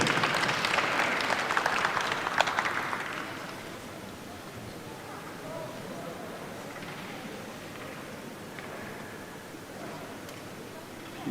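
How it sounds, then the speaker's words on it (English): Audience applause for chess players at the European Blitz and Rapid Chess Championship 2021, a dense steady clapping that is loudest in the first three seconds, then fades to a softer, thinner patter with faint voices underneath. "Please give a round of applause for the players."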